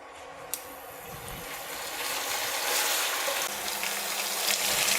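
Oil cooking in a pot over a low flame, a steady close sizzle and crackle that slowly grows a little louder, with one sharp tap near the start and no voices.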